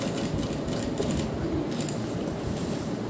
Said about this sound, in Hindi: उसी के किनारे किनारे हम सिलाई लगा रहे हैं